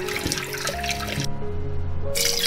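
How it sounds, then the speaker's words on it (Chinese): Five-finger peach root is rinsed of mud and sand in water, with close splashing and sloshing over a few seconds, then a brief quieter gap before the water noise resumes. "五指毛桃泡好了，就给它洗掉上面的泥沙"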